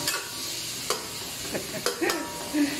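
Fatty pork pieces sautéing in a pan for lumpia sariwa, a soft steady sizzle with a few light stirring scrapes and clinks near at hand, no talk over it.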